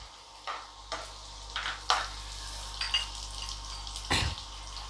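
Curry leaves go into a hot pan while walache birde, a field bean curry, cooks. Short bursts of sizzling and crackling come at irregular intervals, with quiet stirring between them and no talk.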